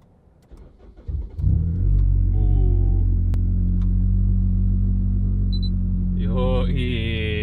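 A Honda Civic FD2R with a K24 Mugen engine cranks and fires up, then settles into a steady, close, deep idle rumble, with a brief rising rev near the end.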